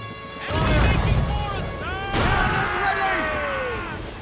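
Ship cannons in Assassin's Creed Rogue boom in two heavy volleys against enemy vessels, each blast followed by a rumbling tail, with shouting voices over the gunfire.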